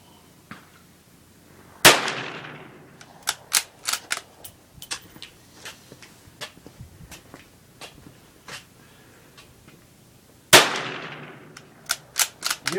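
Two sharp, loud .22 rifle shots stand out about nine seconds apart, with many smaller clicks and taps filling the gap between them.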